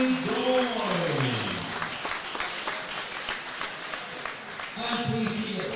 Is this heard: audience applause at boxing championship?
yes